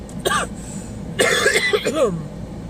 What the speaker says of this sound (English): so I've been coughing again.